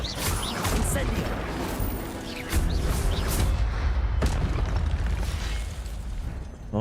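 Spell effects boom and burst in a Harry Potter video game as a fiery Incendio is cast, loud explosive blasts and crackling bursts layered with a speaking voice throughout.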